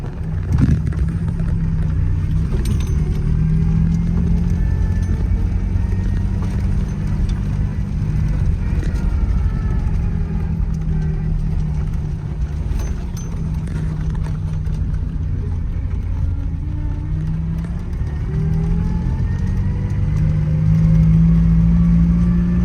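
A Citroën Traction Avant Light 15 with a three-speed gearbox drives along while shifting into first gear, its engine making a continuous, fairly loud drone with gentle shifts in pitch.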